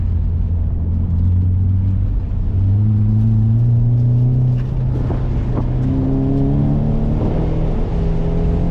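Car engine at an SCCA autocross, loud and close, rising in pitch as the throttle opens, dropping back, then climbing again through repeated acceleration with a constant rumble underneath.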